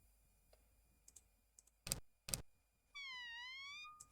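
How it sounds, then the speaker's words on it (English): In the Conquest of the Longbow video game, a cat gives a single drawn-out, slightly wavering meow, clear and close, after a few sharp mouse clicks. "That cat on the side is just ridiculous sounding."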